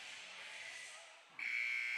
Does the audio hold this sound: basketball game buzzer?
yes